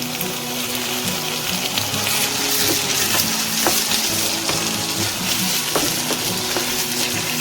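Chopped tomatoes sauté with ginger garlic paste for a prawn pepper fry, giving a steady close sizzle with occasional soft clinks of stirring throughout.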